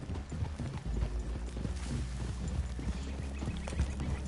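Horse hooves clip-clop on the ground in the Red Dead Redemption 2 video game, a steady rhythm of walking hoofbeats from more than one horse, close and continuous, with light rustling around them.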